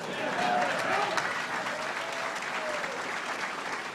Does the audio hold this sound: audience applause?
yes